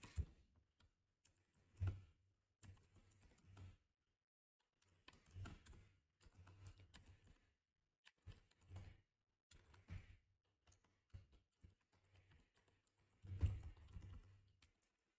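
Code being typed on a computer keyboard in bursts of quick key clicks separated by short pauses, close and fairly quiet, with no talking.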